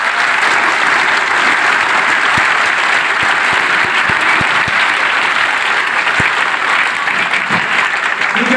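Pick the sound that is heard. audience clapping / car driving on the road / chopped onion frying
audience clapping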